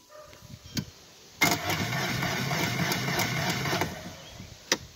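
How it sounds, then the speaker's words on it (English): A 2004 Johnson 15 four-stroke outboard with a four-year-old battery turns over weakly, giving a short click, then a steady labored cranking whir for about two and a half seconds that stops abruptly, followed by a faint click. "It does not crank because this battery is like 4 years old. Anyways, but it turns over slightly."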